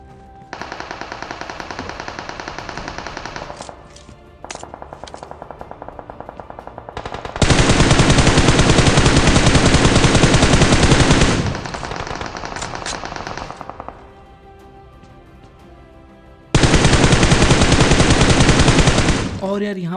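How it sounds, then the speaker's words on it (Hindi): Automatic gunfire in the mobile battle royale game BGMI, rapid bursts of shots rattling in long, loud stretches with brief quieter gaps between volleys, close and continuous. "तभी मेरे को पीछे साइड से फायर का साउंड आता है"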